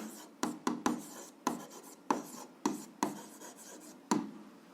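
Pen or chalk writing out an algebra equation, a series of about nine short scratchy strokes with brief gaps, close and fairly quiet, with no talk over it.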